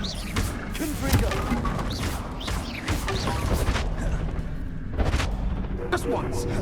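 Confringo fire blast spells cast in the Hogwarts Legacy video game, dense booming explosions layered over battle noise and effects, loud and continuous with a few sharper bursts.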